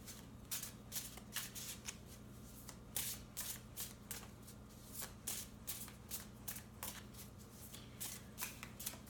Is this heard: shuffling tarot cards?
yes